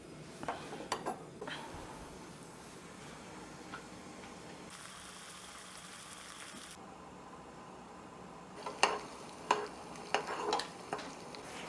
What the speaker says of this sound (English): Now let's turn on the heat and let's melt the pumped sugar.